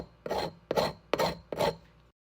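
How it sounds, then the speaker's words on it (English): Knife spreading butter across a slice of bread: four short raspy scraping strokes in a steady rhythm, close and fairly quiet, with no voices. "bread buttering"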